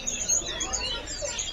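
Thin, high chirps and brief whistled notes from a small caged songbird repeat over a steady background hiss.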